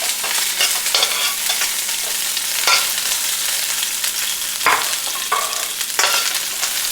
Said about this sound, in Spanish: Se le va a echar la cebolla, se va a dorar aproximadamente unos